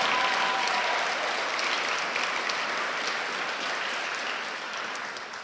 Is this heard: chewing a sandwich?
no